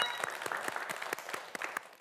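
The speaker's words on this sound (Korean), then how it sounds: "여러분, 김지우 학생에게 박수 한번 보내주세요." A studio audience on a quiz show claps for a student contestant, a short burst of applause with distinct individual claps, fading slightly by the end.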